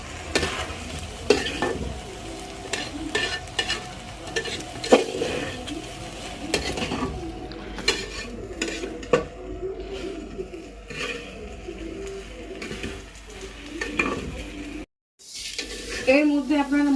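Bay leaf dropped into hot oil in a home kitchen, with steady sizzling frying and repeated stirring, utensil scraping and clinks against the pan, fairly close and continuous, with a brief silent gap near the end.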